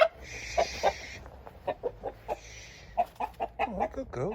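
A cockerel clucks close by in a quick series of short, throaty clucks with a couple of higher squawks, with no talking over it.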